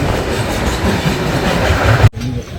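A passenger train at Kashi station platform gives a loud, close rumble with rhythmic wheel clatter, then cuts abruptly to a quieter low hum near the end.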